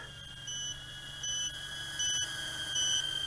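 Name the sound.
low battery warning buzzer on FPV racing drone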